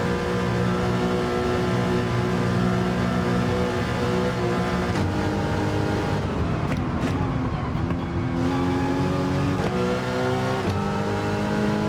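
A Porsche Cup race car engine at full throttle in a racing video game, a loud steady high-revving drone that climbs in pitch through gears, with a brief shift break midway and no talk.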